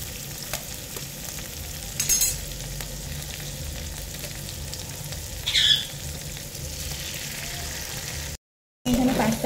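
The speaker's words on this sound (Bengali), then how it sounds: "এখানে ডিমটা ভেজে নিচ্ছি ভালো করে। দুটো ডিম দেবো এখানে আমি।" Two eggs frying in a pan give a steady close sizzle with scraping stir strokes and a couple of brief louder spatters, broken near the end by a short gap of silence.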